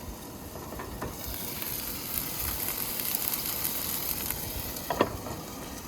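A burger fries on a trusty old Coleman camp stove at a chilly April tent campsite in the Adirondacks, producing a steady close sizzle with a few sharp pops and crackles and no talking.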